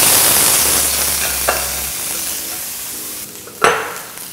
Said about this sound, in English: oil goes in and in with the squid